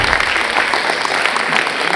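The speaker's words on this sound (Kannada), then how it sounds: "ಜೋರಾದ ಚಪ್ಪಾಳೆ ಬರಲಿ" Loud, dense applause from an audience at a live stand-up comedy show fills the entire two seconds, steady and unbroken with no voices over it.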